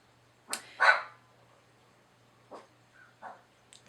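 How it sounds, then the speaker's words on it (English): Guard dogs bark at an intruder in a castle, a few short separated barks of moderate loudness over near silence, with a faint steady low hum underneath. "There's an intruder in the castle. Guard dogs keeping watch."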